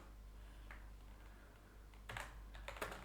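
Typing on a computer keyboard in the Vim text editor on Linux: a faint, sparse patter of keystrokes, quiet at first and then a few quicker clustered clicks near the end, close and alone.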